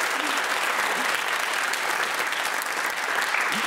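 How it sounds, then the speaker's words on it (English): A studio audience at a radio general-knowledge quiz gives a sustained round of applause, a dense and even burst of clapping heard at moderate distance. "no one goes away without a traditional and positively earth-shaking round of applause"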